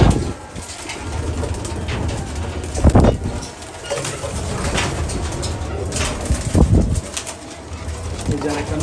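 Racing pigeons in a loft coo and flutter, with bursts of wing flapping rising over a continuous murmur of birds, fairly close.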